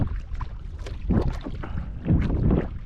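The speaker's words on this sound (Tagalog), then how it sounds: "Pero may hangin na guys." Wind buffets and rumbles against the microphone out on a small fishing boat in the early morning, a steady gusty roar with no talking.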